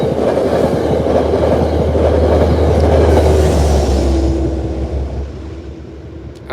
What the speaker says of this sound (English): After that second train passes